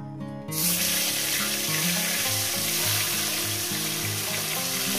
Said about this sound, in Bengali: দেখুন আমার তেলটা গরম হয়ে গেছে। এরপর এর মধ্যে কি করব, একটু লবণ দিয়ে দেবো। লবণ দিয়ে দেওয়ার পর আমি মাছগুলো আস্তে আস্তে দিয়ে দেবো